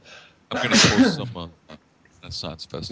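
A sneeze bursts out early amid ongoing conversation, loud and close, followed by people talking.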